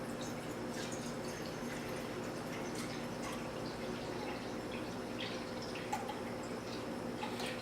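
Water pours into a container set on a kitchen scale, a low steady trickle with small drips, quiet and continuous with no speech.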